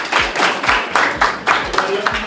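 A middle school audience claps in a steady rhythmic beat, about eight claps in unison, loud and close, with voices talking over it.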